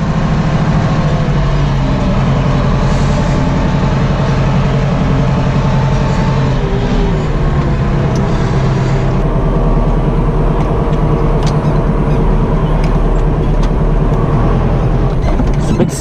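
A classic Ford 7610 tractor hauling a full potato trailer across a field gateway, its engine a steady, loud low drone throughout with rattling and clanking from the trailer.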